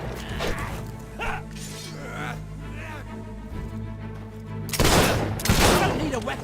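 Gunfire from Fable 3 comes in several sharp bursts, with brief shots early on and a louder, denser volley in the last two seconds, amid in-game clatter.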